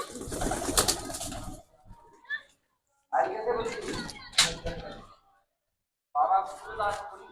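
Soft pigeon coos sound close by in short bursts, separated by quiet gaps, with a few other faint bird calls mixed in, from a flock of fancy pigeons of fifteen lineages.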